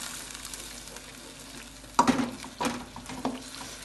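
Tomato sauce gets stirred in a frying pan with a low background sizzle, then three or four distinct clattering scrapes of a utensil against the pan in the second half.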